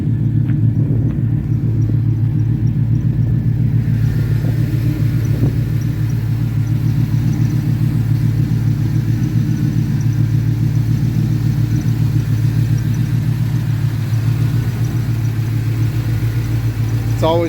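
A 1981 Trans Am engine runs under the hood with a loud, steady low rumble at a constant idle throughout, close and unbroken.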